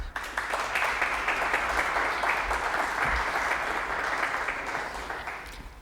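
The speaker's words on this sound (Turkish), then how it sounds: "Konuklarımız da sizi alkışlıyorlar." A studio audience at a 1995 Turkish television word-and-number game show applauds steadily, a dense, even wash of many hands clapping that holds near full strength throughout before easing slightly at the end.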